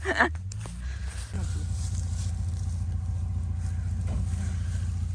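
Car engine straining and revving hard while hauling spruce tree roots out of the ground in a garden plot, a steady loud low drone after a brief noisy start.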